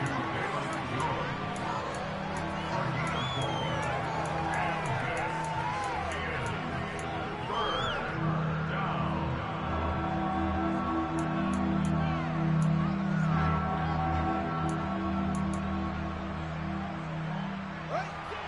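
A stadium crowd roars and cheers during a Bears vs 49ers football video game, a steady swelling hubbub of massed voices that builds toward a big third down, with commentary talk woven through.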